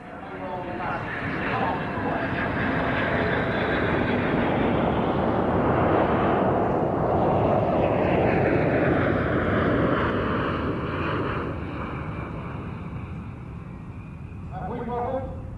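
A Douglas DC-8 jet airliner fitted with bulbous newer-generation engines flies past at an airshow, its loud roar swelling to a sustained peak and fading, with a voice speaking over it.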